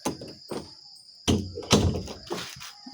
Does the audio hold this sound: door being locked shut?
yes